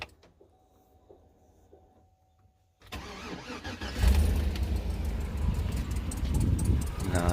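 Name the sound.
Chevrolet Tahoe with cammed engine cranking and starting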